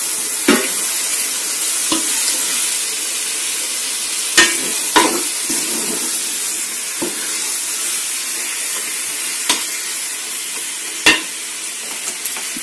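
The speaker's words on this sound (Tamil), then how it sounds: "கொஞ்ச நேரம் இந்த சிக்கன் வதங்கிக்கிட்டு இருக்கட்டும்." Chicken with tomato, coriander leaves and masala frying in a pan, giving a loud continuous hiss and sizzle close up, broken now and then by a few clacks of a spoon stirring.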